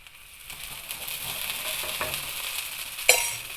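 Thalipeeth (dhapata) fries on a griddle as oil is drizzled around its edges, giving a steady crackling sizzle, with a sharp clink of a utensil near the end and no talk.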